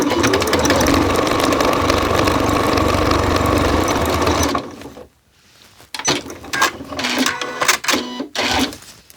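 A sewing machine stitches steadily along a piping seam on a child's Christmas stocking, running loud and continuous for about four seconds, then stopping and restarting in short uneven bursts.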